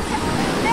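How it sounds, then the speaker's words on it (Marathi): Water churns in a wave pool at a Konkan agro resort, a steady, fairly loud wash of surf-like noise that runs under a voice talking. "हा आहे आपला वेव्ह पूल जो आपल्याला समुद्राची फील देतो"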